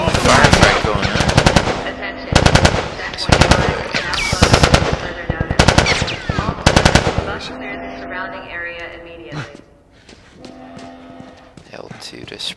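Rapid automatic gunfire from The Last of Us Part 1 on PlayStation 3, loud bursts of rattling shots repeating in several volleys with short pauses, a voice or two heard among the firing.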